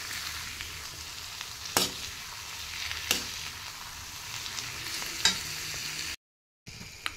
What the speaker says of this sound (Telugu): ఇప్పుడు దీనిలోకి మనం చికెన్ వేసేద్దాం